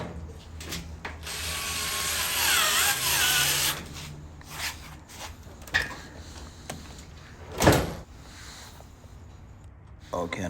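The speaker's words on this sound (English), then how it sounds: "we're gonna put 2 screws on the left side" Screws driven into a Maytag Bravos XL dryer during drum installation, bursts of ratcheting, whirring driver noise with clicks and clunks, while a person talks.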